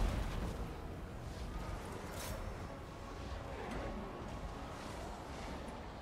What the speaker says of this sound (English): Also, I think our cannons can get to work on this side.